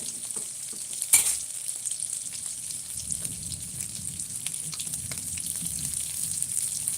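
Food sizzles and crackles steadily in a hot pan, with a brief clatter early on and a gentle stirring noise later.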